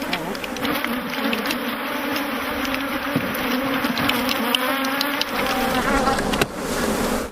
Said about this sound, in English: These bees will soon sort themselves out and return to their queen.